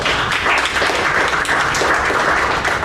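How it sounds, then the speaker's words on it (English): A Toastmasters meeting audience gives a round of applause, a dense continuous wash of many hands clapping at steady volume, brief and unbroken. "I think these guys deserve a big round of applause."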